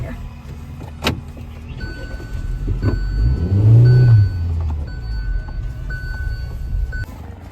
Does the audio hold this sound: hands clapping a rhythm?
no